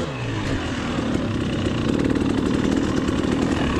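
A dirt bike engine runs low and steady at near idle during slow clutch control on a beginner hard enduro ride, a close, continuous throbbing putter that rises slightly as throttle is fed in.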